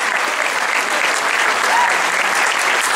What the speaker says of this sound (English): So I think we should give him another great round of applause.